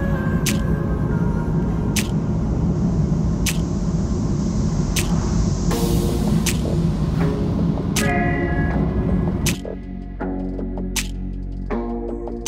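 A car drives along a road in Japan, heard from inside as a steady low rumble with road noise. Faint clicks tick through it, and the tone drops and quiets near the end.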